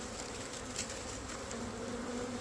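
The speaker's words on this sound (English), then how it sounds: "The bees are really coming in hot with all of this pollen." Honey bees drone in a continuous, close buzz around a nuc box as foragers return laden with pollen, the hum steady and unbroken with no voices.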